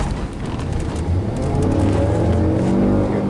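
A stolen Kia car driven erratically between lanes revs hard, its engine roaring steadily and loudly with rising, whining pitch and broadband road and wind rush throughout.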